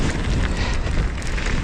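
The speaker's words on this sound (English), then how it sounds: "but the wind is just too much." Strong wind buffets the microphone while mountain biking a jump trail at Trexler Nature Preserve in Pennsylvania, a loud continuous roar of broadband rumble with no pauses.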